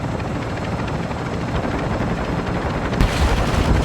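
A helicopter in Call of Duty DMZ thrums loudly and continuously, with its rotor chop close and dense. A sharper burst near the end suggests gunfire, and no one talks.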